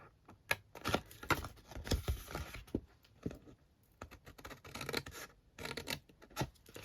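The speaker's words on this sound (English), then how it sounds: "I'm going to cut down those score lines again" Scissors cut cardstock along score lines while assembling a Halloween hinged double box with Stampin' Up! products. Close, irregular snips and scraping strokes come in quick uneven bursts, with no talking.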